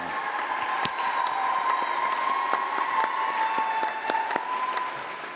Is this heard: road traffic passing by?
no